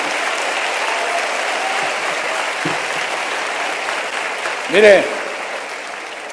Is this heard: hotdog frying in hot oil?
no